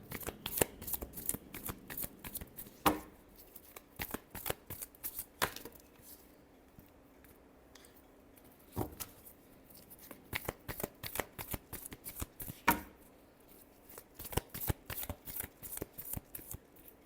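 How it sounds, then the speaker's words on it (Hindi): Tarot cards being shuffled by hand, with quiet, close papery riffles and flicks coming in uneven bursts and short pauses, and no talking. "last shuffle"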